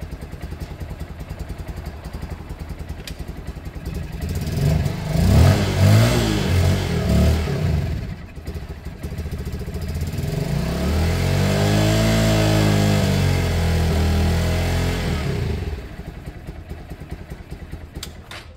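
Lexmoto Michigan 125cc motorcycle engine, close by, working through two rising-and-falling rev sweeps with a rough mid-pitched idle clatter between and after them.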